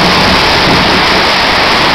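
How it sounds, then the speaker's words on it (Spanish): Hail pours down in a strong windstorm in Salamá, Olancho, Honduras, a loud, dense, steady roar of pelting ice and wind that fills the whole stretch with no voices. "Granizo está cayendo en estos momentos."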